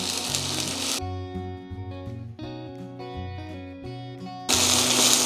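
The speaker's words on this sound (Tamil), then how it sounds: "ஒரு அரை நிமிஷம் வதக்கிக்கோங்க குடமிளகா போட்டுட்டு" Capsicum cooks with ginger and garlic in a pan, sizzling loudly and close at the start and end, with a stretch of music filling the middle.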